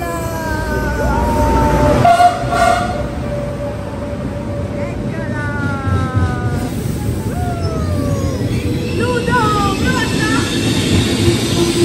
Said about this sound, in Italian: Adesso siamo nel treno.